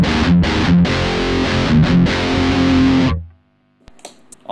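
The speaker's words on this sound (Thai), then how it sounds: "เดี๋ยวผมจะลองให้ดูอีกทีกับเสียงแตกนะครับ" A heavily distorted electric guitar through a cabinet simulator rings out in gritty, sustained chords with a few quick re-strikes, then cuts off, leaving faint scratchy string noise.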